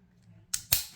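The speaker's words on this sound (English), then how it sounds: "when you reset the trigger and you can hear it snap" Trigger on a Les Baer Monolith 1911 .45 ACP pistol resetting: two crisp metallic snaps in quick succession, close and sharp against a quiet background.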